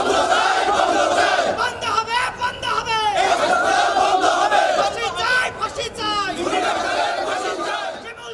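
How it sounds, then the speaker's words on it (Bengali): Colleagues and relatives stage a street protest against Comfort Hospital and an accused doctor, their crowd chanting loud slogans together in repeated rhythmic waves, close and continuous. "অভিযুক্ত চিকিৎসকের শাস্তি ও কমফোর্ট হাসপাতালের লাইসেন্স বাতিলের দাবিতে বিক্ষোভ করেন শিমুলের সহকর্মী ও স্বজনরা"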